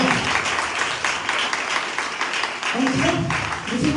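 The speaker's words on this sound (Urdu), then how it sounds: "تالیاں بجائیے گا خداوند کے لیے" A crowd claps steadily in a reverberant church hall during an Urdu Easter sunrise service, the applause swelling near the end with a voice briefly rising over it.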